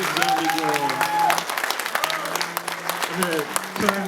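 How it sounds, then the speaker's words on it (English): Audience applause for the cast at the Naked Zombie Girl movie premiere Q&A, dense sustained clapping from a crowd with voices and whoops mixed in throughout. "A big round of applause for the cast."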